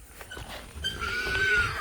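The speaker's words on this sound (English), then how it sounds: "We got 9 more pigs in the trap." Wild hogs caught in a hog trap squeal and grunt, a rising drawn-out high squeal following rougher snorts, fairly close and loud, no talk.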